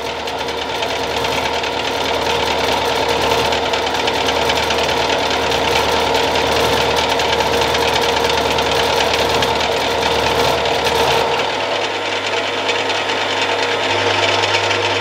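A milling machine cutting metal in steady conventional and climb passes gives a loud, continuous grinding whine with a constant mechanical drone that shifts slightly near the end, heard alone with no talking.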